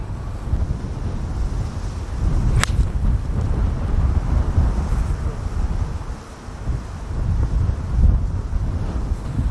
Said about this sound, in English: the wind's moving hard right to left